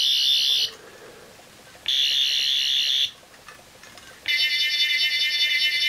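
A toy sonic screwdriver's warbling electronic whine in three bursts separated by brief pauses, each a bright, wavering high-pitched tone, close and loud with no talking.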